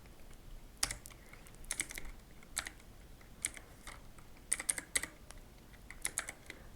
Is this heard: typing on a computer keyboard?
yes